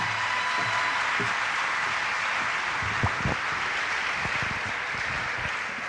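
A London church crowd keeps up loud, continuous applause for a Guatemalan singer, a thick sustained roar of clapping with a few sharper close claps and low thumps standing out near the middle.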